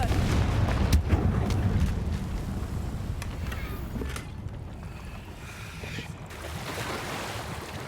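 Fiery Confringo spell blasts in Hogwarts Legacy near Feldcroft: a few sharp booms, the loudest early, over a steady rushing, wind-like ambience that fades slightly toward the end.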